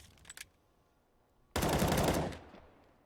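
Desert Eagle pistol fire in a Counter-Strike match on the Train map: a couple of quick faint cracks, then a loud sustained burst of gunfire about a second long that tails off.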